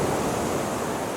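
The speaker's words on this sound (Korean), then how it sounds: "깨끗한 해양이 숨쉬는 소리" Ocean waves at the sea near a Korean marine research institute, heard as a steady, full broadband surf wash with no distinct breaks, loud and continuous with no voices.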